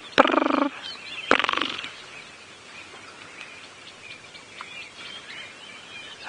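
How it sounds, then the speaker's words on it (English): A crested francolin calls in the African bush at dawn with two loud, harsh, rattling bursts close together, followed by a quieter stretch of distant bird chirps and background ambience. "That's a crested francolin calling."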